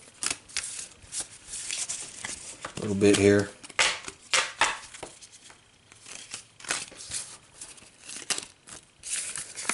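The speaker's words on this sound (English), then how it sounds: "we're gonna have to shuffle this deck" A deck of playing cards is shuffled in quick riffling bursts and crisp shuffling rustles, with a strong flutter midway, while a person talks over the shuffling.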